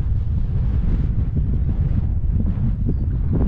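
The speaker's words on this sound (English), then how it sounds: "Wind's getting up." Wind picking up outdoors in the hills east of Arthur's Pass, a loud, steady buffeting roar hitting the microphone in low gusty rumbles, with no voices.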